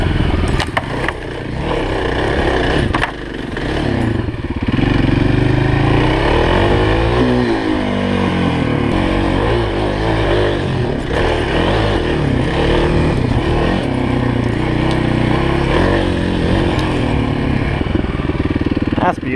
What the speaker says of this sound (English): We'll just do a couple more hill climbs